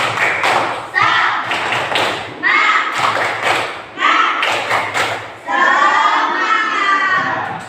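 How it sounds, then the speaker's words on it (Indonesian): A classroom of children does a tepuk semangat rhythmic clapping routine, with loud bursts of claps and chanting voices repeating in several rounds, each burst fading before the next. "kita tepuk semangat dulu ya"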